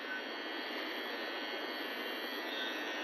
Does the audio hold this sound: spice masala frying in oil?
no